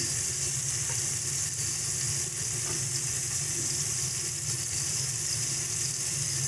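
Ridge gourd frying in a pan with ground green chili and ginger pastes gives a steady, continuous sizzle with a low hum underneath and no speech.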